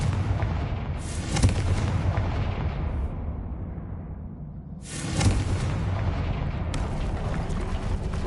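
The Confringo spell in Hogwarts Legacy sets off booming explosions, two deep blasts with crackling debris several seconds apart, each trailing off into a rumbling decay.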